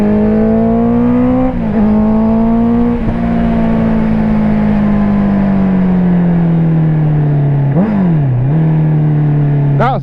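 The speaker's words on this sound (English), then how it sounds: "That's more of a downshift, a rev match." A Honda CBR650R motorcycle's inline-four engine drones steadily close by, with a couple of quick throttle blips as it downshifts with rev matching, pitch dipping then settling lower as the bike rolls on.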